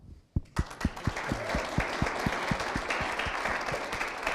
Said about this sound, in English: we could do another round of applause